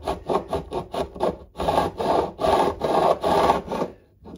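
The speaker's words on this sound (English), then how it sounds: "So I'm now leaning over to bevel a bit of an angle." A hand file rasps back and forth across the fret ends of a Washburn acoustic guitar during a refret, cutting a bevel in steady, close, even strokes with no talking.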